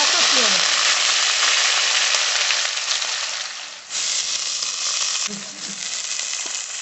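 Chopped onions go into a frying spice paste of whole cumin for spicy chicken kosha, giving a loud, steady, hissing sizzle that dips briefly near the middle and flares again as the pan is stirred.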